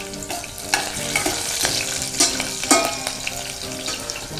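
Thinly slit green chilies for veg biryani sizzle and crackle in a hot pan while being stirred, a steady close frying hiss with a few louder scraping stirs.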